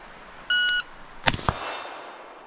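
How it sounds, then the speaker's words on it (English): Shot timer beep, then two sharp rifle shots from an 11.5-inch short-barreled rifle fired at 60 yards, loud and close, the second following the first quickly, with a short ringing tail. "I'm going to back up to 60 yards and try 1 and 2 shots again."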